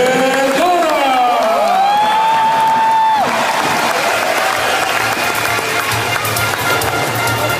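A large crowd in a packed hall breaks into loud, sustained applause welcoming Mr. Rafi Vergara to the stage, the dense clapping lasting throughout with a brief rising voice or tone near the start.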